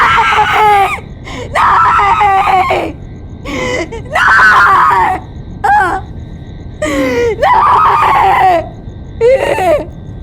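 A woman screams repeatedly in loud, anguished bursts, some drawn out and wavering, separated by short gasping pauses, close and piercing in a crime drama scene.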